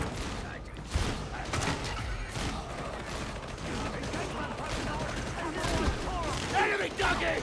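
Gunfire in Warhammer 40,000: Darktide, a dense continuous fusillade of rapid shots and mechanical clatter that stays loud throughout, with shouted voices mixed in.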